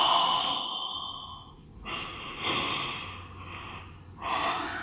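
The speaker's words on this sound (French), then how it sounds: "en expirant cette fois, on ouvre la bouche comme si on allait bâiller et on expire" A deep, slow exhale through a wide-open mouth, like a yawn, during a sleep-focused yoga class, with several breathy gusts rising and fading over a few seconds.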